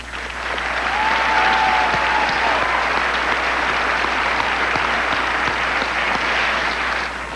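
A large audience at a NASCAR Winston Cup awards banquet breaks into sustained, loud applause that swells in and holds steady across the hall, with a brief whistle early on.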